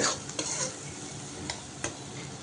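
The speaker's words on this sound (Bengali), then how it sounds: "সমস্ত মশলাটা ভালো করে একটু টমেটোর সঙ্গে মিশিয়ে নেব" Masala paste being stirred into tomato in a hot pan, a soft continuous sizzle broken by a few sharp scraping strokes of a spoon against the pan, close and alone.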